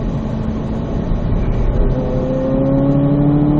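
A race car accelerates hard along a track marked with turning cones. Its engine is loud and close, with a steady roar whose pitch climbs as it speeds up over a few seconds. No one speaks.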